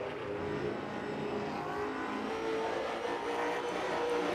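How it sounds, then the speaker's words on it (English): Race car at a Hickory short-track throwback night, styled after a Rick Mast car, accelerating hard off a corner, its engine a steady loud roar throughout with other cars running nearby. "You hear him pedaling that car coming off the corner, trying to get everything he can out of it."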